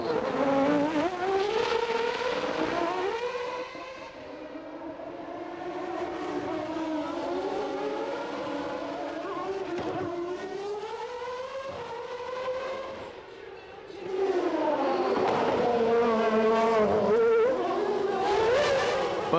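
A 1994 Formula 1 car on a qualifying lap, its high-revving engine screaming and rising through the gears, dipping through braking and corners, then surging loud again as it powers away, with no talking.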